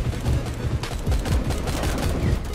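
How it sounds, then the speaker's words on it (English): Rapid bursts of gunfire rattle in the Roblox shooter Strucid, loud and dense, with overlapping shots and heavy low thumps packed across the whole moment. "That guy's shooting straight through a stair."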